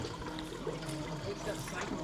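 Simulated rain from a rainfall demonstration rig pours steadily onto grassy ground at an outdoor regenerative agriculture event, a continuous hissing wash of water close by with faint voices underneath.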